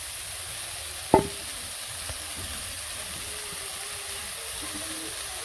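Greens (saag) go into a hot frying pan with a single sharp clunk, followed by a steady sizzle and soft stirring scrapes that continue close and even, with no talking.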